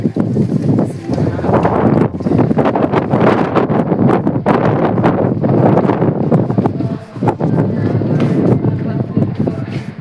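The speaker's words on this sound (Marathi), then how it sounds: "वारा कसला" Strong wind roars and buffets the microphone nearly continuously at Shivneri fort, with a voice speaking faintly underneath.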